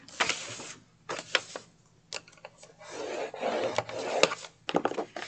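Wrapping paper being scored at the 3-inch mark on a 6-inch piece, heard as close, repeated scraping strokes in short bursts with quiet pauses between them.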